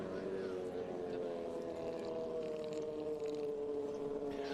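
F1 powerboats racing on the Red River course at Shreveport-Bossier, a steady droning engine whine that holds throughout, with a voice talking over it.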